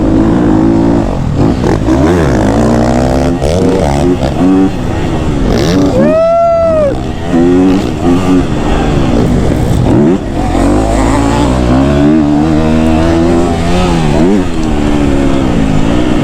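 A KTM 250 SXF four-stroke dirt bike engine revs and bogs steadily while being ridden on a motocross track, loud and close throughout, with surging throttle and brief dips, and a rider's voice faintly mixed in.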